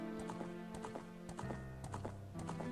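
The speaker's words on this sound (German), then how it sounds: "Mit Link, der auf Epona die hylianische Steppe entlang reitet." Galloping horse hooves from the Ocarina of Time intro as Link rides Epona across Hyrule Field, a steady rhythmic clip-clop over game music, fairly quiet.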